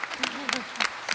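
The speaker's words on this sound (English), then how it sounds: "stop with the applause" Brief, scattered audience applause at a town-hall style conversation on the economy and housing, with a few bursts of clapping under a voice speaking over it.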